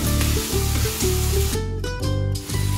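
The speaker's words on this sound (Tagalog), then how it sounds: "Yan, gisa-gisa lang natin." Pancit ingredients seasoned with fish sauce sizzle loudly in a pan in short bursts of sautéing, with steady hissing and frying close up and no talk.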